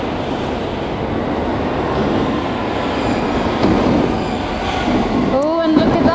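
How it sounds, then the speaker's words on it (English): A London Underground train pulls into Gloucester Road station, a steady loud rumble of wheels and carriages with a rising squeal near the end, as people chat briefly over the noise. "Oh, train in."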